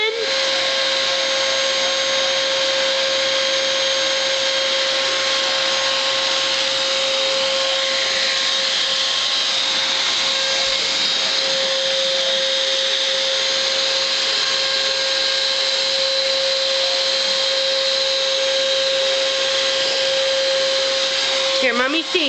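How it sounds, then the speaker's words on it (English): A household vacuum cleaner runs steadily and loudly throughout, with a strong constant motor whine, stopping briefly near the very end; a voice speaks faintly over it. "Are you vacuuming?"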